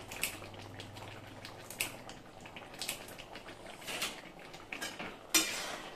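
A pot of chana dal with raisins, sugar, garam masala, kasuri methi and green chillies is stirred, giving soft irregular clinks and scrapes of a utensil against the pot, with one sharper knock near the end.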